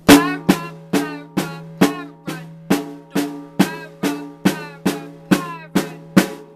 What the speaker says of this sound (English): now we are going to move on to a triple paradiddle